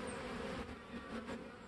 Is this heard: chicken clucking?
no